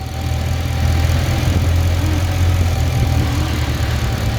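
A supercharged 2012 Mercedes C63 with 193k km idles steadily while the steering wheel is turned side to side, a constant low engine rumble with a faint pump whine running through it, close and alone.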